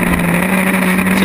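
Historic Formula Ford racing cars run side by side for the lead at Snetterton, giving a loud, steady, close engine drone that holds without a break and has no clear pass-by swell.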